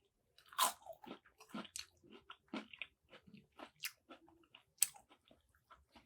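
Crunchy bites and chewing of battered halibut fish and chips, a close series of sharp crackling crunches followed by softer irregular chewing, with no talk.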